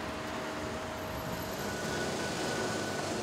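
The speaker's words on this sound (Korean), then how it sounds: "이곳 전차는 무궤도 전차인 트롤리버스." Steady low rumble inside a moving trolleybus in Yerevan, Armenia, with a faint electric whine rising and falling, no voices.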